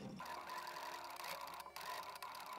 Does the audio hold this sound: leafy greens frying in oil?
no